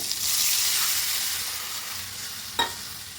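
Mustard paste hits hot oil with hilsa fish in a pan, giving a steady broad sizzle that holds through the clip, with a sharp spitting crackle near the end.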